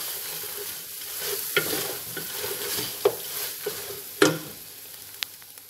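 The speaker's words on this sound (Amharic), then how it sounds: "ከዛ መልሼ አማስለዋለሁ ማለት ነው" Cumin and cinnamon stirred into a frying pan, a soft continuous sizzle broken by several sharp scrapes and clicks of the spoon against the pan, close and fairly quiet, with no talk.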